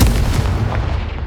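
A Confringo fire spell in the Hogwarts Legacy video game, heard as one sustained, loud, booming blast with heavy low rumble that fills the whole moment, with no voices.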